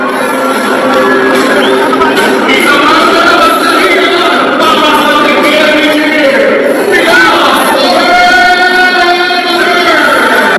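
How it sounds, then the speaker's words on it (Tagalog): A large crowd of people shouts and cheers at a boxing venue at Rizal Memorial Stadium, a loud continuous roar of many voices that stays dense and steady for the whole stretch. "narinig niyo ba yung sigawan ng taong bayan?"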